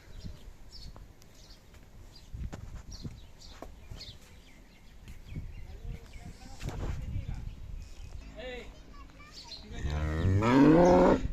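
A cow, a pregnant Khillar dairy cow, lets out a loud, close moo near the end, after a stretch of background talk and farmyard noise in a cattle shed.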